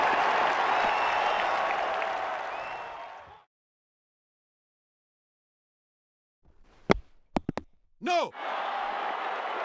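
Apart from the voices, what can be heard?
cricket crowd applauding a great knock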